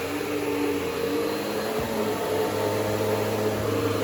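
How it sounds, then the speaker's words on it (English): A vacuum cleaner running continuously while a house is vacuumed, giving a loud, steady motor whine and airflow hiss with a brief bump near the middle, with no voices. "we're going to vacuum again."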